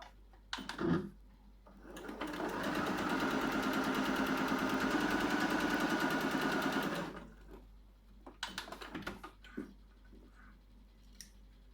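A sewing machine runs in one steady burst of stitching for about five seconds, sewing a quarter-inch seam on a half-square-triangle quilt block. A few fabric handling clicks come before and after it.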